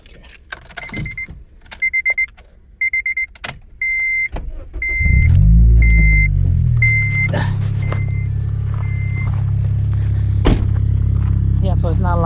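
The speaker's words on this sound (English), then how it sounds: "Let me do a startup for you so that you can hear how how it sounds." A 2007 Honda Civic Si starts up after a run of repeated electronic dash chimes and clicks, then settles into a steady, moderately quiet idle close by, with a voice briefly heard near the end.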